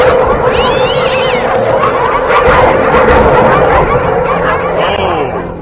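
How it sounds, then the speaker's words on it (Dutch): Several chihuahuas yap and bark in a busy, dense movie scene, with high yips and squeals layered over music and effects while voices talk over the commotion. "Dat is nogal een blaf die jullie hebben."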